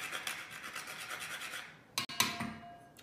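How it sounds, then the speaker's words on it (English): A whole nutmeg is rubbed over a tin grater in a steady series of soft, rhythmic rasping strokes, close and quiet, followed by a couple of sharper knocks. "But our tin today is being used to grind the nutmeg."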